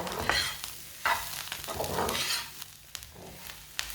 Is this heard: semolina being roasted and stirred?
yes